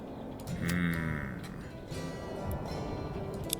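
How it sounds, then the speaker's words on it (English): A sheep in the medieval farming game Manor Lords gives a single drawn-out bleat over busy village ambience, moderately close, with no speech. "We just bought a sheep."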